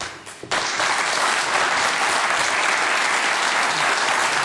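Studio audience applause bursting in after a brief quieter moment and holding as a dense, steady clapping roar to the end, with no voices over it.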